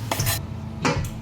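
Spinach leaves and onions drop into a pan, giving two short clattering bursts of food and metal contact, close and fairly loud, separated by a brief lull.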